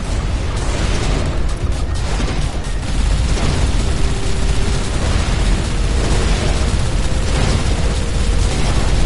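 Missiles launching and exploding in the space combat game Everspace 2, a dense, continuous roar of overlapping blasts and bursts, loud and sustained throughout.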